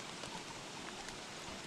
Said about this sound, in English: my sanity goes really down because of the stupid rain here